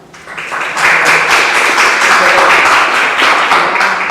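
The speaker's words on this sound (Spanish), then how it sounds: "le damos la bienvenida con un caluroso aplauso" A crowd applauds steadily, dense clapping that swells in the first second and holds loud and even to the end.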